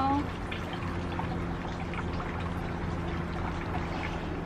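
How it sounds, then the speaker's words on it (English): Water pours steadily onto potted plants, a continuous close splashing trickle running for several seconds with no talk. "I'm just gonna give them some water."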